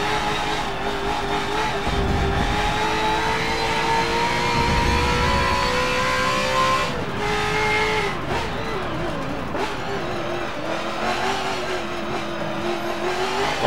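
A GT race car in Forza Motorsport 7 holds a loud, sustained engine whine that climbs steadily, then drops and wavers through shifts and hard cornering, up close and continuous.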